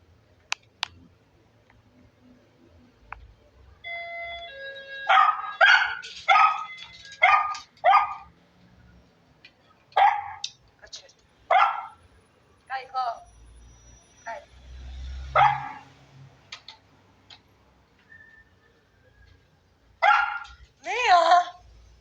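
A small dog barks in short bursts and clusters with quiet gaps between, some yips rising to whines, close by.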